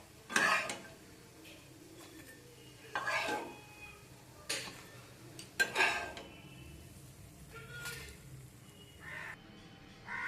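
Metal utensils clink and scrape against a frying pan as fried green pea fritters are lifted out, several sharp bursts of clatter spaced a few seconds apart with quiet frying in between.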